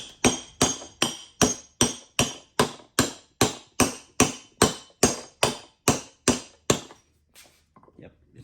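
A hammer taps a bearing into a Pentair IntelliFlo pool pump motor with about seventeen sharp, evenly spaced metallic blows, close and loud, then goes quiet.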